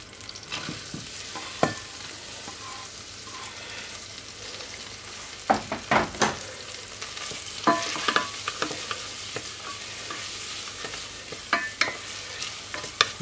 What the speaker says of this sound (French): Donc on va faire transpirer un peu les échalotes.